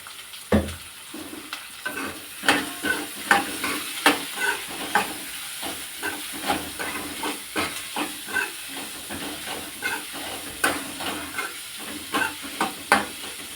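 Onions sizzle in a pan with a pinch of salt, a steady frying hiss broken by rhythmic scraping stir strokes roughly every half second, close and moderately loud, with no talking.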